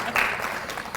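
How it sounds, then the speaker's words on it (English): Brief burst of audience applause at a seminar, a short ripple of clapping that rises quickly and fades into room murmur within a second. "They're clapping for you, Margaret."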